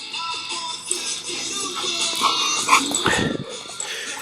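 A dog whimpers and whines in short, high, nasal bursts close by, several cries over a few seconds with faint background noise.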